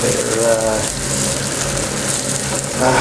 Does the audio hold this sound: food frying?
yes